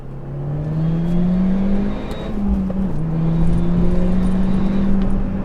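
An Audi A1 Quattro with a turbocharged engine accelerates hard in second gear, a loud, close engine drone rising steadily in pitch, a brief dip and recovery midway, then climbing again with a faint turbo whistle.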